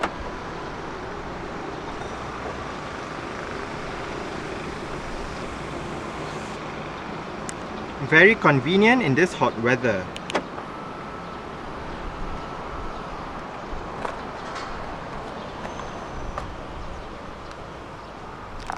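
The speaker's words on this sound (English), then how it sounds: "if you press and hold on the unlock button, you are able to roll down all 4 windows in the car simultaneously" Four power windows on a 2016 BMW X1 sDrive20i (F48) rise together, a short burst of layered motor whine lasting about two seconds inside the quiet cabin, followed by faint ambient hum and a spoken remark.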